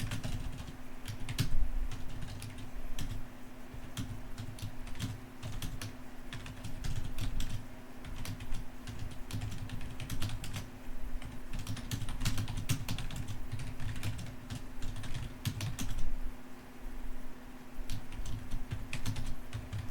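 C++ code being typed on a computer keyboard: fast, irregular clicking keystrokes close up, arriving in bursts and short pauses throughout, with no speech.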